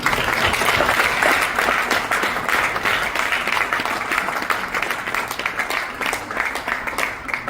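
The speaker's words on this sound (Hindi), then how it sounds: "एक जोरदार ताली इनके लिए।" An audience at a motivational business gathering breaks into loud, sustained applause, dense rapid clapping from a large crowd that stays strong throughout and eases only slightly toward the end.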